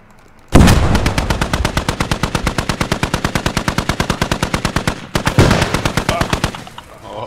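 Loud, close automatic gunfire in the Squad military video game, a rapid unbroken burst of shots that stops briefly and then resumes for another sustained stretch.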